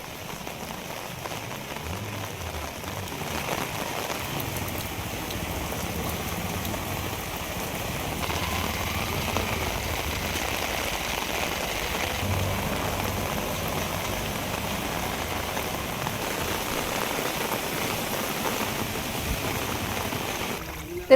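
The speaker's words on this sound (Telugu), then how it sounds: "ఉరుములు మెరుపులతో కూడిన భారీ వర్షం కురిసింది." Heavy downpour in Tirupati during a thunderstorm: a dense, constant hiss of rain pouring onto surfaces, steady and unbroken throughout with no talking.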